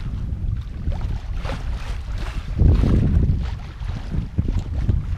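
Steady wind at sea buffeting the microphone aboard a sailboat near the Bay of Algiers, with a low rumble and gusts, water and boat noise beneath, no voices.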